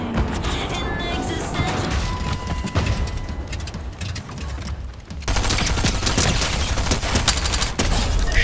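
Dense, sustained gunfire from a Fortnite match, a rapid fusillade that runs loud through the whole stretch, with a brief lull before a heavier burst kicks back in.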